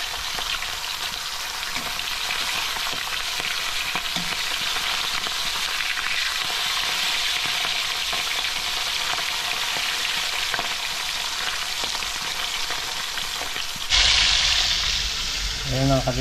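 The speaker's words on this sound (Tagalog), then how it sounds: "habang nagpiprito tayo" Food sizzles and crackles steadily in a hot pan, with a louder burst of frying near the end.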